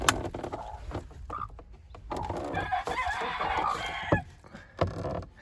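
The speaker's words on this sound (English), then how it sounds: "Hey ladies, I can hear chicks." Hens cluck and call inside a winter coop while chicks cheep among them, a busy, close mix of clucks and higher peeps that rises and falls, with a few sharp knocks.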